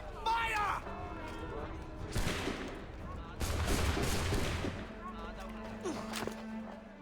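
In Assassin's Creed III, a volley of musket fire cracks out in several loud, overlapping blasts. Sparse shouting mixes in, and a low sustained drone continues underneath.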